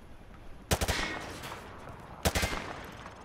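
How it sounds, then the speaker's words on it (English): Two short bursts of automatic gunfire from the hip in Call of Duty: Modern Warfare 2, each a rapid rattling volley of several shots followed by a brief echoing tail, fairly close with a quiet gap between them. "Just fire from the hip."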